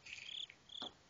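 Crickets chirp in short high trills, two bursts close by in an otherwise quiet setting.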